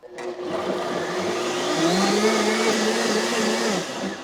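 A blender whirs through a vanilla bean mixture for a vegan strawberry almond tart. The motor spins up after a brief start, runs steady and loud for about four seconds, then eases off slightly near the end, with no talking.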